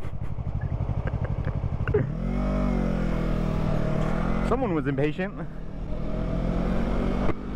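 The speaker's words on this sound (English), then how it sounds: "There's a moped guy up here." A moped on a road buzzes and revs nearby, its engine pitch rising and holding steady, while a person talks over the sound.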